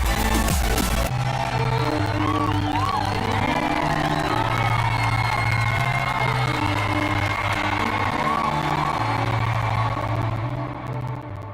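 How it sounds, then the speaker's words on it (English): An audience applauds and cheers for the Ax-2 space mission crew at a NASA event, with loud, sustained crowd noise and scattered whoops that swell in about a second and continue steadily to the end. "One more round of applause for our crew for the AX-2 mission"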